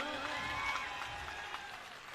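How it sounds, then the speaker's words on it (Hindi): Political rally crowd clapping for Bhagwant Mann, a brief, moderately loud wash of applause from a large audience, slightly distant and fading a little toward the end. "भगवंत मान जी के लिए एक जबरदस्त तालियां."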